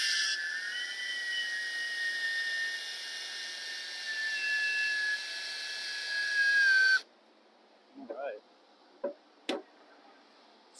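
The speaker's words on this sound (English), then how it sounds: "I made sure to pre-drill it because I don't want this wood to crack." A power drill whines steadily for several seconds while pre-drilling into wood for a garage baby stair gate, then cuts off, followed by a few short squeaks and clicks.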